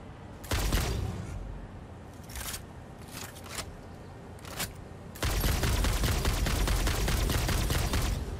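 Gunfire in the Satisfactory video game: a few scattered single shots early on, then a loud, dense continuous burst of rapid fire filling the last few seconds.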